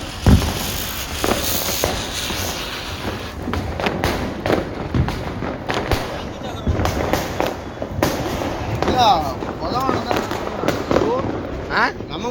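Fireworks go off during Diwali celebrations, with a flower pot firework spraying crackling sparks amid scattered pops and thumps, under excited talk and shouting throughout.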